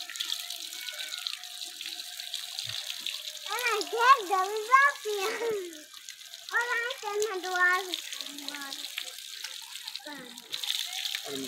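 Water pours and splashes steadily over a buffalo being bathed in a Punjab village, a continuous wet hiss running under several people talking nearby.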